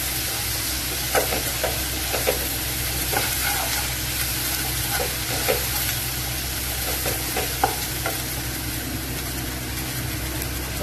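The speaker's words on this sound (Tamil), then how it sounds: "இஞ்சி பூண்டு பச்சை வாசனை போனதுக்கப்புறம் தக்காளி ஆட் பண்ணிக்கலாம்" Tomatoes frying with ginger-garlic masala in a pan for hotel-style channa masala, a steady close sizzle with occasional stirring scrapes and clinks throughout, no talking.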